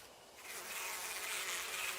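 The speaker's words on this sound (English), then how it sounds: "The bees are gathering on it." Bees swarm around thick liquid dripping in the horror game Death Mark, their dense, high buzzing rising in and holding steady and close.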